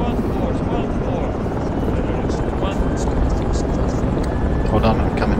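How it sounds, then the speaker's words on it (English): A helicopter in the video game Project Reality drones loudly and steadily throughout, its dense rotor and engine roar filling the scene, with voices talking over it. "Helicopter on the right. Helicopter on the right."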